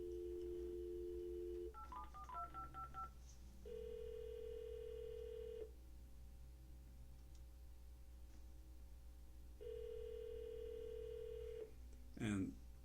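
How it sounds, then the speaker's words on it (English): A telephone on speakerphone: a dial tone, a quick burst of DTMF keypad tones, then two long ringback tones with a pause between, ending in a short click as the line connects. "I'm going to give them a call. And leave it on speakerphone."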